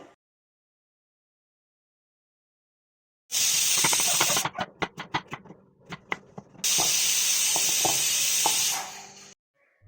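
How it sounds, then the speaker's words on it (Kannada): Potatoes fry in a pan with a loud, close hiss that bursts in suddenly, crackles and pops for a few seconds, dips, then surges again into a steady sizzle before cutting out, with no talking. "ಪೊಟೆಟೊ ಫ್ರೈ ಮಾಡ್ತಾ ಇದ್ದೀನಿ."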